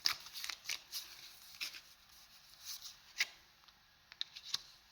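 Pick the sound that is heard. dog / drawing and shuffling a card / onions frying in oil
drawing and shuffling a card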